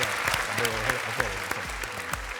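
Studio audience applause for a contestant on the Thai game show Davinci, steady clapping throughout with voices and a host talking over it, fairly close.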